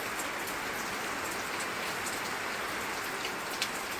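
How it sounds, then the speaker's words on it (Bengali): Heavy rain falls steadily on surfaces outside a house, a dense, unbroken hiss of drops that stays even and fairly loud throughout, with no voices. "কি পরিমাণ বৃষ্টি হচ্ছে।"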